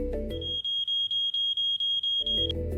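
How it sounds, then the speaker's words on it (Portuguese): A smoke-style fire alarm goes off in a restaurant, sounding a loud, piercing high tone pulsed in rapid even beeps, with a louder low rumbling noise at the start and end. "o alarme de incêndio disparou"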